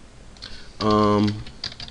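Fingers tap a computer keyboard in a few quick, soft clicks, close by, interrupted midway by a short voiced hum.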